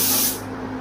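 A spray gun set at 20 psi with its fan fully open hisses loudly as it lays down clear coat, a broad steady burst that cuts off partway through, leaving the low drone of an extractor fan running underneath.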